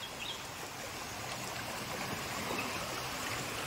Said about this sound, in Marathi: छोटासा ओहोळ आहे.